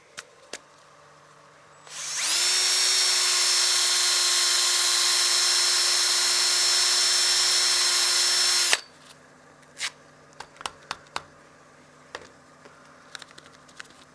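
On a lathe, sandpaper is held against a spinning wood platter, giving a bright, steady whine and hiss that lasts about seven seconds between quiet stretches with scattered clicks and taps.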